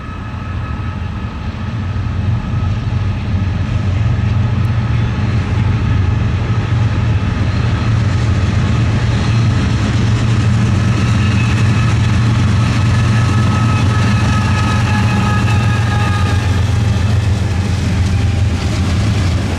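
A Norfolk Southern freight train led by a Dash 9 and two ES44DC locomotives rolls past close by, a loud continuous rumble of heavy diesel engines and rail cars that builds and then holds steady throughout.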